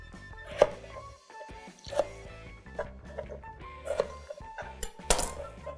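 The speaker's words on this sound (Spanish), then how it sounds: "Vamos a cortar los tomates y los vamos a licuar con la cebolla." A knife chops tomatoes on a cutting board in a home kitchen with a few sharp, spaced knocks and clinks, close and crisp among quieter background sounds.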